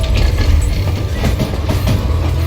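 Train running in the western video game Call of Juarez Gunslinger, a loud, close, continuous rumble of wheels and rail clatter with no speech.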